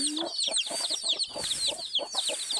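Several chickens cluck busily close by, overlapping calls in a steady farmyard chatter with high chirps above, in Barangay Salangsang, Sultan Kudarat.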